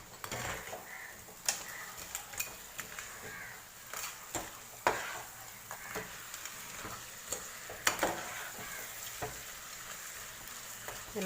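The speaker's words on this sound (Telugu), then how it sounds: "కొంచెం ఆయిల్లో పెట్టుకొని ఫ్రై చేసుకోవాలి." Pithala fish frying in oil, a soft continuous sizzle with occasional sharper spits and pan knocks, fairly quiet, no voices.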